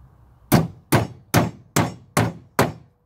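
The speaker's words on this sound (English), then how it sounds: "As you see, I'm hammering them down on the wood" Hammer driving nails into the wood of a bee box, six sharp evenly spaced strikes, close and loud with nothing else around them.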